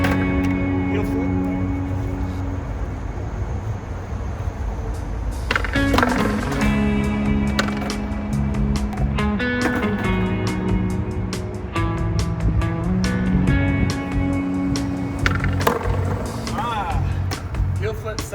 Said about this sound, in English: Heel flip, second try.